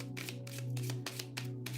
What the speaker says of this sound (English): look how easy these cards are to shuffle. Brand new.